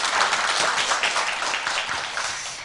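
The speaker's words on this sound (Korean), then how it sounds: "박수 한번 주실까요?" Studio audience applause at a Korean poetry talk show honoring a poet, a dense steady wash of many hands clapping, fairly close and sustained throughout, easing slightly toward the end with no talking over it.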